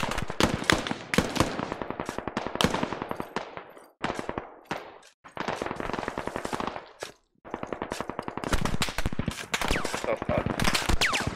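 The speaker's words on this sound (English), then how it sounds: "Shots fired." Rapid, sustained machine gun fire from a video game battle, long bursts of dense rattling shots with brief pauses between them, loud and continuous over several seconds.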